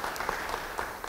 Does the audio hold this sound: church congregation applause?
yes